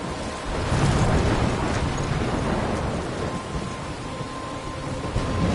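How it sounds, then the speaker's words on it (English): Steady rain and rolling thunder in a storm from the video game Life is Strange, a dense, continuous wash of downpour with low rumbling swells, loud and close throughout. "I'm trapped in a storm?"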